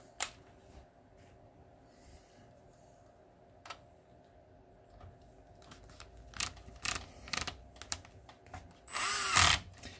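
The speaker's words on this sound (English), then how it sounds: "Now on my drill, I find that three on the clutch works really well for plastic threads." A cordless drill with its clutch set low drives screws into the plastic threads of a BenQ HT2050 projector, a few short whirring bursts after quiet handling clicks, ending in a louder spinning burst.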